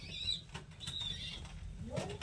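Racing homer pigeons stir in a breeding loft, with soft wing flaps and faint cooing spread over a steady low background hum, plus brief chirpy bursts near and far.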